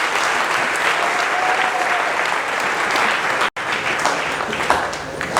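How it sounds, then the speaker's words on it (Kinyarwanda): A church congregation bursts into sustained, dense applause, loud and continuous with a brief break near the middle before the clapping carries on. "Dukomera amashyi menshi Imana."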